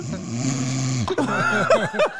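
A man imitates snoring with his voice, a long low rasping inhale followed by a snorting, gurgling exhale, loud and close.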